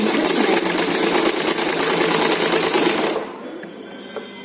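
A sewing machine runs in a fast, even stitching patter for about three seconds while sewing a blouse lining on a double katori blouse, then stops, leaving quiet room tone with a small click.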